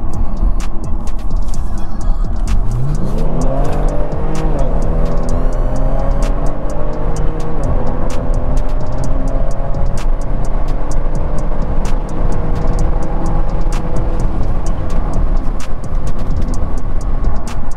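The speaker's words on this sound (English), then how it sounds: "That was wide open throttle, baby." A tuned 420 AWHP Kia Stinger GT at wide open throttle: the engine note climbs steadily in pitch through a long, loud pull under 19.4 boost, with a gear-change dip, heard from inside the car.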